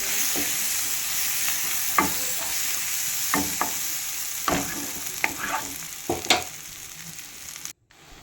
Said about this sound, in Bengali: তারপর এখানে গ্রেট করা আদাটা দিয়ে দিচ্ছি। দিয়ে ভালো করে নেড়ে নিচ্ছি।